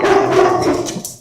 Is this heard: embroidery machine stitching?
no